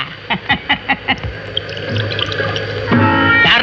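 A drink is poured into a glass: a few quick clinks and drips, then a steady close pour that rises near the end.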